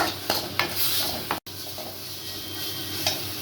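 Egg curry ingredients stirred and sautéed in a pan, with a steady sizzle and scraping stir strokes recurring through the clip, close and moderately loud, briefly cut out mid-way.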